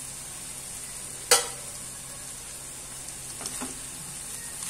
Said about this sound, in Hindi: अब मैं इसे कवर करके 1 मिनट के लिए पकाऊंगी।